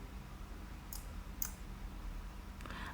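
A computer mouse clicks twice, roughly half a second apart, each click short and faint over a steady low background hum.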